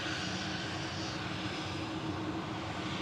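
Virgin Atlantic Airbus A330-300, registration G-VSXY, touching down at Manchester Airport after a flight from Atlanta, a constant heavy engine roar filling the whole moment with no talk.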